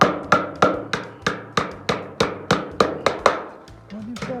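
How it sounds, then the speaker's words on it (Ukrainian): About a dozen sharp, evenly spaced hammer taps drive a dowel while fixing a parapet to a concrete curb, ringing briefly, followed by a short low voice at the end. "Молоточок."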